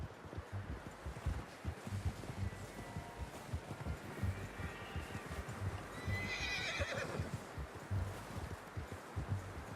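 Horse in Red Dead Redemption 2 gives a distinct whinny midway, over steady clip-clop of hooves and rustling outdoor ambience, moderately close.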